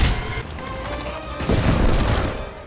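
Explosions in the film Incredibles 2: rumbling blasts and crashing booms roll on continuously, loud and dense, with a heavier surge of impacts in the second half.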